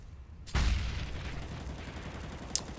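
Pistol and shotgun gunfire in Counter-Strike, heard as one sharp boom that fades into a rumbling tail, with a faint click shortly after.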